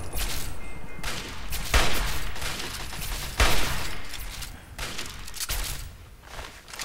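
Rapid bursts of gunfire from Fallout 3 crack out in loud volleys, with sharp shot peaks standing out near 1.7 and 3.4 seconds amid continuous firing.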